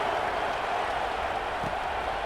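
A football stadium crowd at a women's league game, a dense, steady roar of cheering and noise filling the space, distant-sounding and constant throughout.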